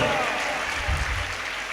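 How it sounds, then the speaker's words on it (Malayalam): A church congregation claps hands together in a dense, steady burst of applause, fairly distant and soft. "നീ കൈയടിച്ച് കർത്താവിന് മഹത്വം കൊടുക്കുക"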